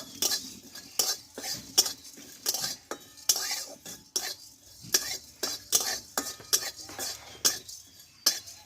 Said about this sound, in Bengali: এই গোটা মশলাটা আমি একটু হালকা করে ভেজে নেব